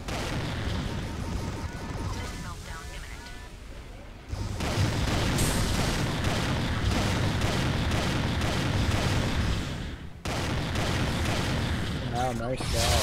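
Weapon fire rattles through a MechWarrior 3 online match with a weapons mod, heavy autocannon bursts and booms pounding continuously, loud and close, with a player talking over the barrage.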